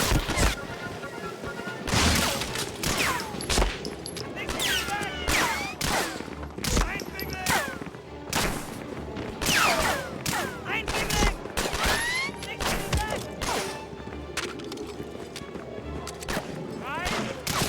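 Rapid bursts of pistol and shotgun fire in the PS2 shooter Medal of Honor: Frontline, crashing and booming over a busy battle din, loud and near with a player voice talking over it.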